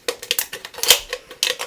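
Scissors snip through metallic card stock in a craft session: a rapid run of crisp, close cutting clicks and rasps, about a dozen quick snips with a brief pause near the end, no voices.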